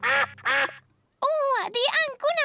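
Cartoon ducks in Peppa Pig quack: two short voiced quacks, a brief pause, then a longer run of exaggerated quacks, all performed by voices imitating ducks, loud and close.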